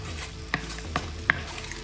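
Eggs seasoned with salt and pepper being scrambled in a frying pan over medium heat, a few soft scraping strokes over a steady low sizzle, with no talking.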